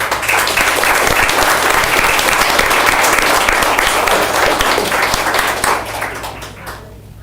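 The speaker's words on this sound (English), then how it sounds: "Let's give these ladies a round of applause." Loud, close audience applause at a school district board meeting, dense sustained clapping from a crowd that holds strong for about six seconds and then tapers off near the end.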